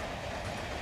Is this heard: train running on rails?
yes